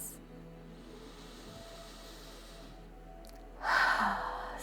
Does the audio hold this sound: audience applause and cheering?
no